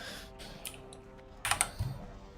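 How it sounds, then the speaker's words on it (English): Keys clatter on a computer keyboard in quick, uneven bursts, close and fairly quiet, with a few louder clacks near the end and no voices. "You like the keyboard sounds?"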